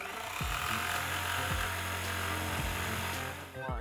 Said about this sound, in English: now we're going to take a jigsaw and now we're going to cut the sink out